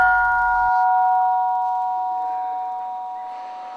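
A struck gong at a Burmese meditation monastery calling monks to breakfast, one loud sustained metallic tone with steady harmonics ringing out and slowly fading, heard alone.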